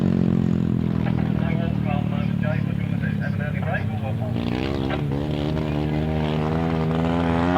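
An Italian V-twin sidecar outfit at a grasstrack race, engine screaming hard against the rev limiter with a steady, buzzing drone that rises in pitch, loud and close, under a commentator's talk.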